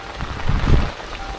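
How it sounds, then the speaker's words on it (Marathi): Heavy rain pouring steadily, a dense wash of noise with some low rumbling thumps from drops or handling nearby. "पाऊस जोरात आला रे परत"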